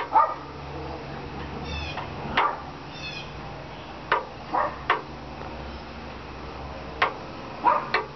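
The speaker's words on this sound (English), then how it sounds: "That's my dog barking at the helicopter." A dog barks at a helicopter in short, scattered bursts, somewhat distant, over a quiet outdoor background with no talking.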